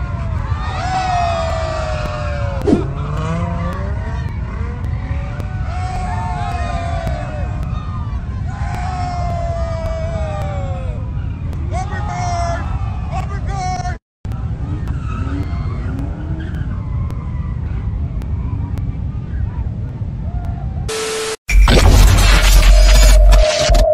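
Cars skidding and tire squeal as professional drivers in their own cars collide like bumper cars, repeated screeching bursts under music and voices, ending in a sudden loud, harsh burst.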